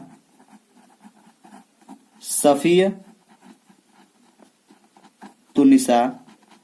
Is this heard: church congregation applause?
no